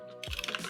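Fast clatter of keys on a computer keyboard as Python code is typed, a quick run of close, crisp clicks after a brief quiet start.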